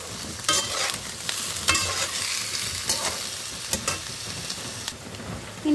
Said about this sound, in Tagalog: Atin itong halu-haluin at igisa.